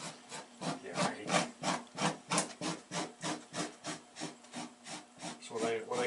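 A paint scraper drags across a stretched animal skin on a board in steady back-and-forth strokes, each a rough rasping scrape roughly every half second, close and moderately loud with no talk over it.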